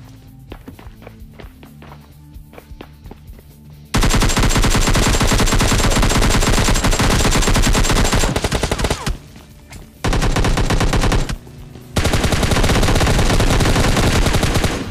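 PUBG Mobile gunfire in sustained automatic bursts: loud, dense rattling volleys broken by short pauses, preceded by a few scattered shots and footsteps, with no talking.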